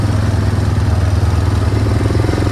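A Yamaha Big Bear 400 ATV engine idles and revs close by, its steady low throb and busy mechanical clatter filling the scene continuously, with no voices over it. The machine runs with only one working front brake.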